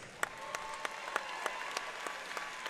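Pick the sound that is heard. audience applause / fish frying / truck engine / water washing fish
audience applause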